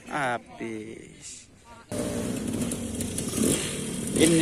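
At a hill-climb event, a KTM 250 dirt bike engine breaks into loud, rough revving and roaring right after a brief spoken voice, then holds a steady, close, gritty engine noise.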